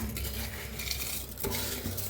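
A spoon scrapes and stirs washed small-grain jeera rice in boiling water in a metal pot, with soft clinks and a bubbling simmer close by.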